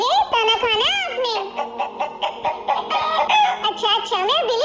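A pet rooster crows and clucks close by in a family home as it is offered grain, with long wavering calls filling the clip and a faint voice or giggle mixed in.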